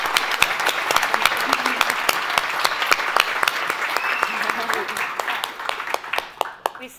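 Audience at a tenth anniversary gala breaking into sustained applause, dense clapping with a few louder individual claps and a cheer, thinning out toward the end.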